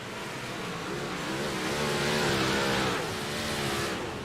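Big block modified race car roaring down the front stretch at a dirt track, the engine's loud, sustained drone swelling as it passes close by, then holding steady.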